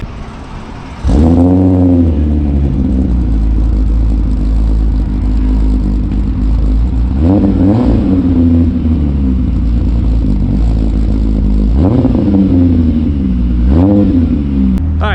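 An MK3 Jetta VR6 engine idles steadily, then revs up loudly several times, each rise in pitch swelling and falling back, as the car pulls away.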